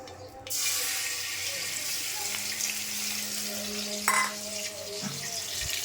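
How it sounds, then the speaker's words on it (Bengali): A bay leaf drops into hot oil in a pan, giving a steady close sizzle with some watery hiss and faint kitchen clatter, including a brief knock near the end. "তেলের মধ্যে তেজপাতা দিয়ে দিলাম"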